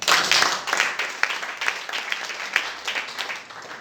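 A church congregation applauds during a French sermon, brisk dense clapping from many hands that gradually eases off, with a few voices mixed in.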